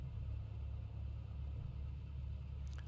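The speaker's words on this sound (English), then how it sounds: "I'm going to keep the headphones off just so you guys can actually hear the engine noise." Cessna 172 engine in the Prepar3D flight simulator, a steady low droning hum that holds at an even level throughout with no changes in pitch.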